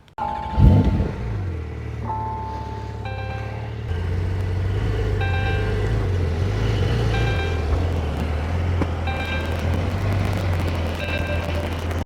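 A 992-generation Porsche 911 Turbo S creeps forward a short distance onto weighing scales, its engine giving a low, steady idle rumble that swells slightly as it rolls, with intermittent electronic beeps nearby.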